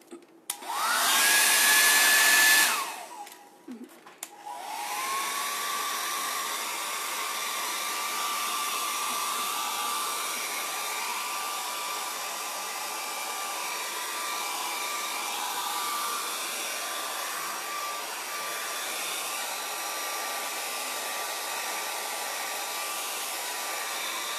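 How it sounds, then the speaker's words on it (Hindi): A handheld hair dryer used as a heating tool for decoupage roars loudly for a few seconds, cuts off briefly, then runs again at a steady lower pitch for the rest of the clip, close and continuous with no talking. "So I am using my hair dryer."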